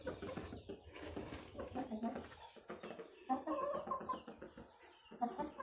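Chickens on a farmstead squawk and cluck close by in busy, overlapping bursts, with a few louder squawks toward the end and a person talking quietly among them.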